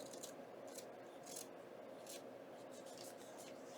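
Paper pieces being trimmed for a junk journal, with a series of soft, brief scissor snips and papery rasps at close range over a steady background hiss, no talk.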